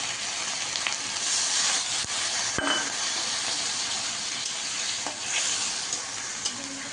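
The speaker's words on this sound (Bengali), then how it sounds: "মশলাটাকে ভালোভাবে কষিয়ে নিলাম" Spice paste sautéing in a hot pan, with a steady loud sizzle and frying hiss throughout and occasional stirring scrapes. No one speaks.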